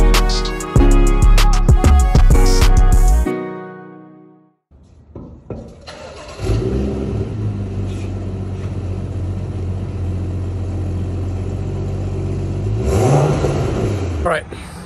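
A BMW N55 engine with a catless downpipe gives a burst of loud revving, then falls quiet, catches again, and settles into a steady, deep, throaty idle that holds close and loud for several seconds.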